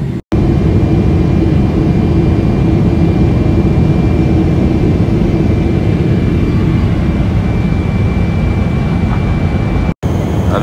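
A passenger jet airplane on a runway, on a flight from Kuwait to Thailand, gives a loud, steady low engine rumble with a faint thin whine above it, unbroken for about ten seconds and heard close from inside, with no talking.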